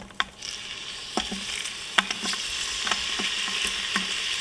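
Onion frying in an Instant Pot as the base for a lamb pilaf, a steady close sizzle with several sharp clicks and taps of a utensil against the pot, no talking.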